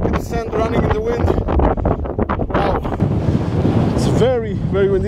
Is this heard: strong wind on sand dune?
yes